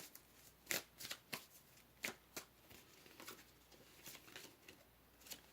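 Tarot cards are shuffled and a single card is drawn from the deck. Close, quiet papery riffles and flicks come in short uneven bursts with soft slides between them, and nobody speaks.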